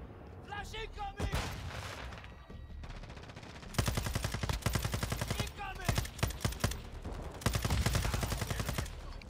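Sakin MG38 machine gun from MW2 firing in long sustained automatic bursts, loud and close, with brief pauses between strings of rapid shots and a voice talking faintly underneath.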